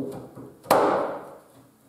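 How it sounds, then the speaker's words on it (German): A new lock is slid into the lock slot of an interior room door, one soft scrape and then a single sharp knock as it seats, followed by a brief rattling decay, close and quiet. "Das neue Schloss schieben wir jetzt einfach hier in den Schacht rein."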